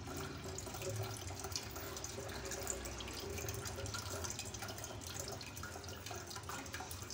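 Falsa juice strained through a large sieve, a steady close trickle and patter of liquid running through the mesh, continuous and even, with no talk.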